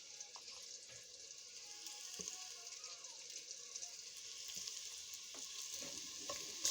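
Turmeric, chili and coriander powder are fried into a bottle gourd, tomato and egg curry, giving a faint, steady hiss with a few soft clicks and scrapes, quiet and without speech.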